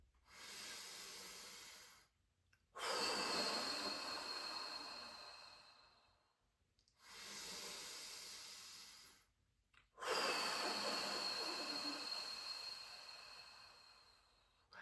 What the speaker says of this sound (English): Breathe in, blow out.